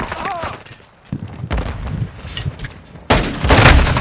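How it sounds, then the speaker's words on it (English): Gunfire in Call of Duty: Modern Warfare II during a free-for-all match, bursts of shots and impacts with a loud dense volley at the end, mixed with other game sounds. "It's a gun."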